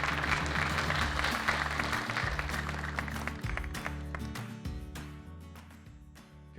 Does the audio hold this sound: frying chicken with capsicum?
no